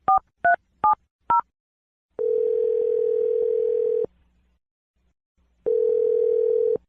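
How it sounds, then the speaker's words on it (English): Four quick phone keypad tones beep in succession, followed by two long, steady ringing tones separated by a pause of silence. "I'm going to dial the phone number."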